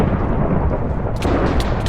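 Low, continuous rumbling thunder fills the whole short stretch at steady loudness, with brief higher crackles near the end, heard indoors during a convention panel.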